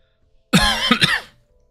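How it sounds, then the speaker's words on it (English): A short burst of coughing, two or three harsh hacks in quick succession, close to the microphone, with silence before and after. "Okay, I'm coughing a little bit."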